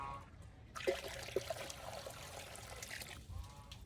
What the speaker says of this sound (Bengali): দে দে পানিটা দে, আরো পানি দে একটু